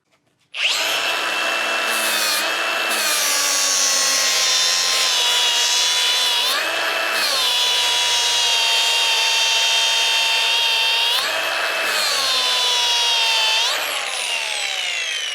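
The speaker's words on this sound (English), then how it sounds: "now we're going to go through and polish the weld that had the filler wire in it" Power polisher working over a filler-wire stainless steel butt weld, a loud high continuous whirring grind that wavers in pitch as pressure shifts, with brief dips where the tool eases off.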